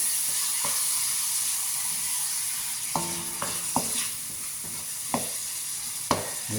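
A crab meat filling mixture being stirred in a pan for stuffed crab, with a steady sizzling hiss and a few distinct scraping knocks of the utensil near the end, close and clear.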